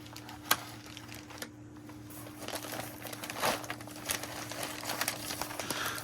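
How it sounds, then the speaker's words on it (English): Unwrapping the wrapping on a new SU HIF44 carburettor package, with close crinkling and rustling in uneven bursts and a sharp crackle near the start. "But let's very carefully unwrap this."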